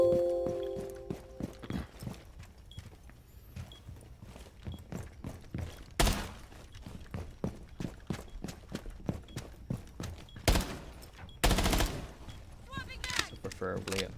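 Sharp gunshots in Rainbow Six Siege on the Consulate map, fired at walls near the upstairs bombsite. Several scattered reports and a few louder bursts cut through steady footsteps and game noise. A voice talks throughout.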